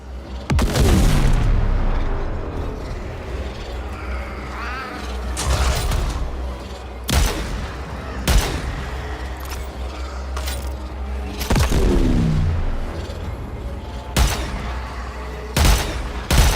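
Guns firing in the video game Warframe: repeated loud, sharp shots spaced a second or two apart, each with a booming tail, over a low steady hum.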